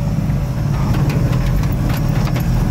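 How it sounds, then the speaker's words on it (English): Two-wheel drive Postal Jeep engine held on the gas while climbing off-road, a loud, rough low rumble that stays steady and throaty throughout with faint rattling on top. "Wow, I'm really giving it a lot of gas."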